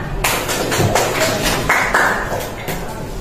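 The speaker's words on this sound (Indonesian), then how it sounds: "Berikan tepuk tangan." High-school students applauding a classmate's answer in a Pancasila lesson: a short, fairly close burst of uneven clapping in a classroom, with a few voices underneath.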